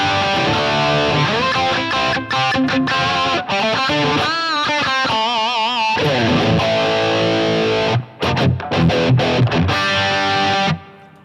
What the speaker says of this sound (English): So let's just add a distortion block